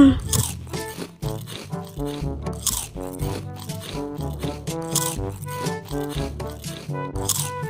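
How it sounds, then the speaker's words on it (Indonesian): A crunchy green apple from a roadside stall is bitten and chewed, giving repeated close crisp crunches in an irregular rhythm over a steady tonal background. "Akhirnya ketemu juga nih buah apel hijau. Hop. Nyam nyam nyam nyam"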